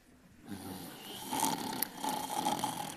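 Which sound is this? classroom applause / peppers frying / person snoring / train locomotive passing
person snoring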